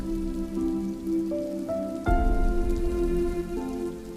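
Rain falls steadily in a soft, even patter, mixed with sustained melodic tones, with a brief louder swell partway through.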